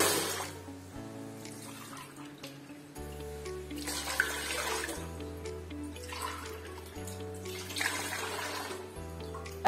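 Water pours steadily into a pot in several gushing bursts, with soft background music underneath.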